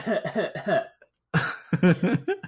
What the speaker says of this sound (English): Apparently, I'm gonna cough on you.